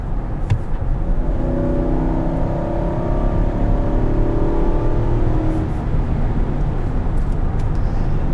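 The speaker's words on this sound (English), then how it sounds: "Wanted to get a little bit higher in the revs for the acceleration without going too crazy with speed." A 2021 Infiniti QX80 SUV engine hums and climbs in pitch at higher revs as the vehicle accelerates, heard from inside over steady road and wind noise.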